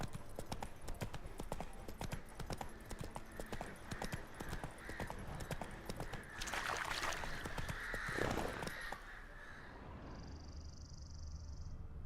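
Rapid clip-clopping hooves from a galloping horse in the video game The Witcher 3, steady and close, with a whinny near the middle; the hoofbeats stop near the end, leaving a faint hum.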